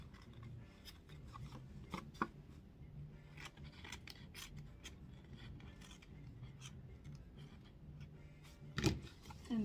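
Scissors trim excess ribbon on a handmade Easter greeting card, making quiet close snips and rubbing over a steady low background hum.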